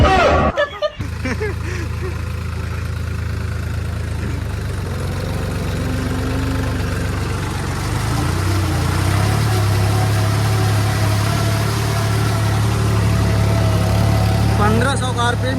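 A New Holland 3630 tractor runs with a 7-foot Shaktiman rotavator, its engine holding a steady low drone throughout, fairly loud and close, with people talking over it.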